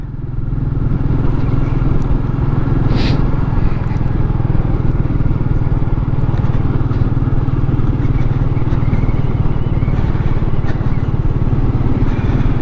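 Royal Enfield Meteor 350 motorcycle on the move, its steady engine drone loud and continuous throughout with wind rumble, no talking over it.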